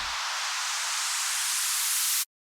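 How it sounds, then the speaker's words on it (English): White noise buildup in a hypertrance track: a loud, steady broadband hiss that rises slightly in intensity for about two seconds, then cuts off abruptly into silence. "And then some more white noise for the buildup."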